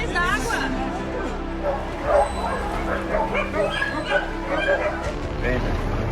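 Small dogs pulled from the water bark, yip and whimper in quick uneven bursts, close and fairly loud, with people talking and murmuring around them throughout.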